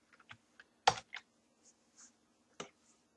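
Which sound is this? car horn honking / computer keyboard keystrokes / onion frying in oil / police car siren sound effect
computer keyboard keystrokes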